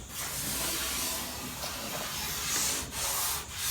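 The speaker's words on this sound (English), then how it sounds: "still a lot of sanding to do, but that's just one pass around the table." Continuous abrasive sanding rasps across a cherry wood dining table, steady and close, with a couple of brief pauses near the end.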